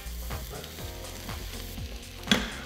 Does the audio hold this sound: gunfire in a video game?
no